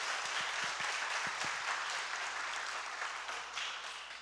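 A church congregation applauds during a worship service, a soft, distant wash of many hands clapping with a few sharper individual claps early on, fading gradually over about four seconds.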